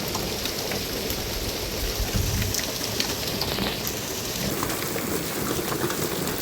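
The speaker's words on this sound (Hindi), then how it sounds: "जैसे जैसे बारिश तेज़ हो रही है ओले ज़्यादा पड़ रहे हैं" Hail and heavy rain pound down on a farm. A loud, unbroken wash of rain fills the air, with scattered sharper impacts from hailstones against surfaces, and no talking.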